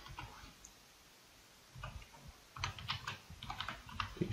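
Quiet typing on a computer keyboard at a desk, with a pause and then bursts of light, rapid key clicks close by.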